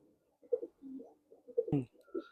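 Tournament flying pigeons kept for sale coo in low, soft bursts close by, with a few brief sharper noises and faint talk mixed in.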